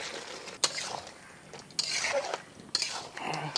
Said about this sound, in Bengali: আবারও একটু নাড়াচাড়া করে নিই।